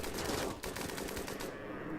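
Rapid automatic gunfire from a RimWorld battle, a dense continuous volley of overlapping shots that holds loud and steady for about a second and a half before thinning out.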